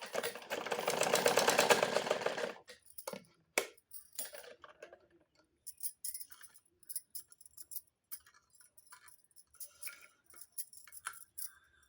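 A sewing machine stitches a matka-style blouse neck with a belt, running in a fast, close mechanical burst for about two seconds. Scattered clicks and light handling taps follow.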